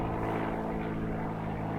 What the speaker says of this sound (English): That airplane was loud.